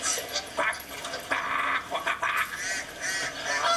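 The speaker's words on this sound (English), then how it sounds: "I love the ducks." Ducks quacking at a pond where bread is being offered, a busy run of overlapping honking calls at close to middle distance, steady throughout with no clear talk over them.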